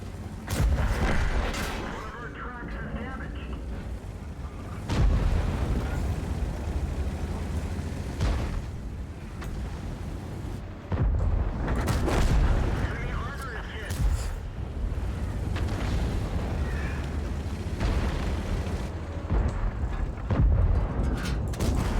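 Heavy cannon shots from an M103 tank in World of Tanks boom through the game's rumbling battle noise, with a few loud blasts spaced apart under almost constant talking.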